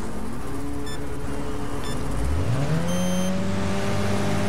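Super vans such as the Robin Reliant racing on a figure-of-eight circuit in Wreckfest, a loud engine roar climbing in pitch as one accelerates, with other motors droning steadily alongside, no talking.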